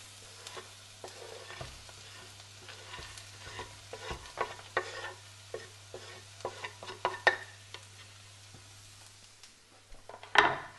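Chopped pecan nuts fry with garlic in a pan, a steady sizzle broken by frequent scraping stirs and light clinks of a utensil against the pan, close and moderately loud, with a low hum underneath and no talking.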